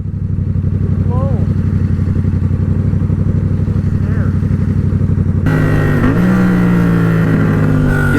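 Yamaha FZ-07 motorcycle revving hard for a wheelie, a loud rising engine note that surges sharply near the end, with voices talking over it.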